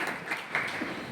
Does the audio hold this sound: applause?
yes